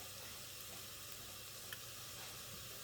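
Onions and garlic sizzle in a soup pot, a faint, steady hiss of frying that holds evenly with one small tick partway through and no talking.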